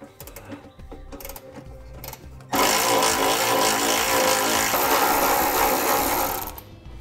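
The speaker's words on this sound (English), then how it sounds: "Now we'll go ahead and remove these two 8mm bolts here" A power tool spins off 8mm heat shield bolts under a 2010 car during a trailer hitch install, a loud sustained whirring rattle of about four seconds, preceded by quieter clicks and handling noises close by.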